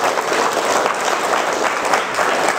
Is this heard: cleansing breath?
no